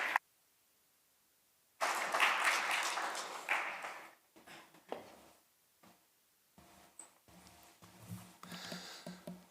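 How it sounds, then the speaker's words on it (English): Audience applause greets a speaker coming onto the stage at a foundation's live-streamed event. The clapping bursts in loudly after a short silence, swells, then thins into scattered claps and room noise. "So I would like to please invite him with a big round of applause to the stage."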